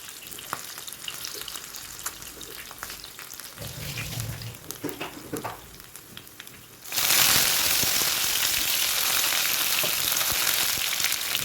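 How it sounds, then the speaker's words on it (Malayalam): Crushed ginger and garlic, with green chilli and curry leaves, frying in hot oil in a non-stick pan, with a sizzle that starts moderate and stirred, then jumps to a loud, steady hiss partway through. "അതിൽ എണ്ണ ചൂടായതിന് ശേഷം ഇഞ്ചി വെളുത്തുള്ളി ചതച്ചതാണ് കേട്ടോ ഇട്ട് കൊടുത്തിട്ടുള്ളത്"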